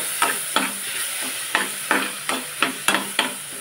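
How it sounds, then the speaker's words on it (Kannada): Spice paste frying in oil in a pan, a spoon scraping and stirring in about nine regular strokes over a soft continuous sizzle, close and clear with no talk. "ಈಗ ನೋಡಿ ಈ ಥರ ಎಣ್ಣೆಯಲ್ಲಿ ಫ್ರೈ ಆಗಲಿ"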